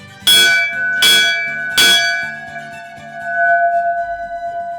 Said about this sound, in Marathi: इकडे ही घंटा आहे ही तीन वेळा वाजवायची